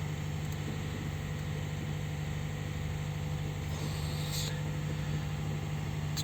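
A 2020 Toyota Corolla with 18,500 miles idles just after starting, a steady low engine hum with a constant drone, quiet and even throughout with no other sounds.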